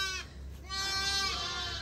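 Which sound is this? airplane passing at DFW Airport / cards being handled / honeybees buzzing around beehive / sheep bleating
sheep bleating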